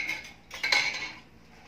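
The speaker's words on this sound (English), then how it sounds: "I wanted to wash the dishes too" Dishes being washed by hand, with soft clinks and scrapes of cutlery and crockery under running water, moderately faint and close.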